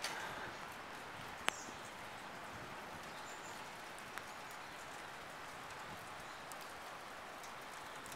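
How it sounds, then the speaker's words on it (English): Steady rain falling on a city street near a hotel in Detroit, a constant soft hiss with a couple of faint clicks, no voices. "It's a rainy day today."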